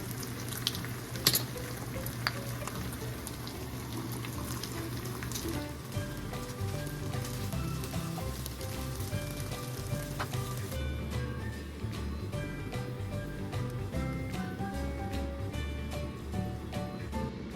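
Pork belly barbecue frying in a kawali pan, crackling and sizzling steadily like heavy rain, with scattered sharper pops and a faint bubbling undertone, loud and close with no talking.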